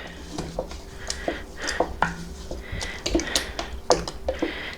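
Parsley and oregano are stirred into a pot of homemade spaghetti sauce, a spoon knocking and scraping against the pot in a steady run of light clinks and taps.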